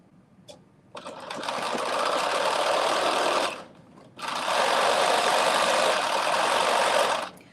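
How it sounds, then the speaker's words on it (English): A sewing machine stitches two fabric pieces together for a reversible bonnet in two loud, close, steady whirring runs, the first about two and a half seconds and the second about three, separated by a short pause. "I am going to make a stitch so I can make one complete piece of fabric"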